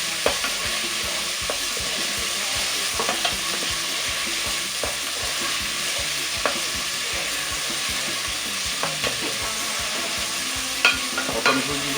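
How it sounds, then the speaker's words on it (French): Potatoes sizzle and sauté in a sauce for a rice zembrocal dish, with a steady frying hiss throughout and occasional soft scrapes of a spoon stirring the pan, close by and without talk. "Alors les pommes de terre, on va les faire revenir un petit peu dans cette sauce"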